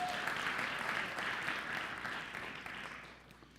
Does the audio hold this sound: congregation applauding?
yes